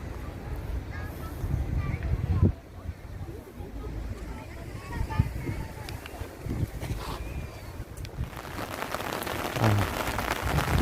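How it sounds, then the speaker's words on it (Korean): Steady rain falling outdoors, a constant dense hiss with scattered drips and a few thumps, wind buffeting the microphone at moments. "비가 좀 오죠."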